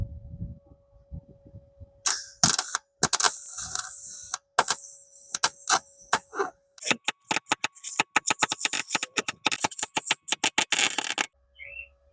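Welding repair on a 1966 Ford Mustang front frame rail, done without shielding gas: close, loud bursts of sharp crackling and spitting that start and stop several times, with short gaps between beads.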